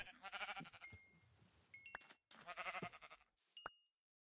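Sheep bleat in a video game, two quiet wavering calls with a few soft chiming tones between them and brief silences.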